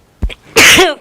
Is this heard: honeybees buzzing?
no